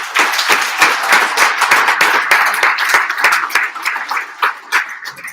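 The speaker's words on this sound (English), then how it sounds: "Can we give them a round of applause?" A modest group at a Hall of Fame banquet claps enthusiastically, individual hand claps audible in a quick, uneven patter that tapers slightly at the end.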